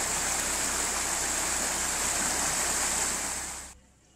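Mountain stream water running through the hills near Sylva, North Carolina, a steady, loud broadband rush that stays constant and then drops away abruptly near the end.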